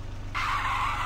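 In a horror video game set in an abandoned village with a big-headed monster, a car's tires abruptly break into a loud, sustained skid that continues as it passes close by, with no speech.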